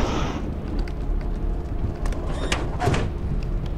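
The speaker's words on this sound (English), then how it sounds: "We opened the door!" A heavy door grinds open in the video game Lethal Company, a steady rumbling slide that holds loud and close for about four seconds, with brief higher scrapes near the end.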